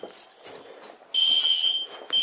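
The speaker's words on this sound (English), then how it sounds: "let's finish the test and finish this test by doing a bell test" A fire alarm system bell test during an inspection: after faint background rustling, a loud continuous high-pitched electronic tone sounds for about a second, stops, then starts again.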